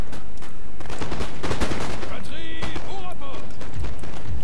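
Cannon blasts and crackling musket volleys from a Napoleon: Total War battle, dense bursts of gunfire layered over one another with voices shouting through the din.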